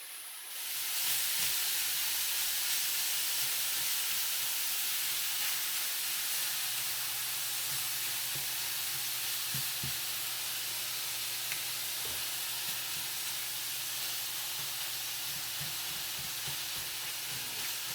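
Maple sausage meat sizzles and fries steadily in a pan while being broken up and stirred, a continuous close hiss with occasional soft scraping.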